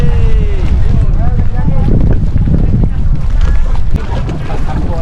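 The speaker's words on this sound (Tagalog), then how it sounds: "nakasakay na kami sa mga bangka" A boat motor drones over rushing water and wind buffeting the microphone on a motorboat ride at Hundred Islands, Philippines, with people talking and calling out over the noise.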